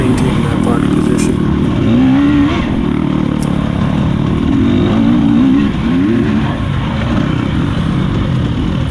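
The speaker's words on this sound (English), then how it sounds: "Had somebody rev behind me," A racing motorcycle engine roars loudly and continuously during a track-day race, with rising rev sweeps from another bike coming up behind and wind rush over the top.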